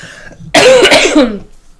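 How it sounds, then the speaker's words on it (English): One loud, close, harsh cough bursts out after a brief quiet moment, then fades. "Sorry about my coughing."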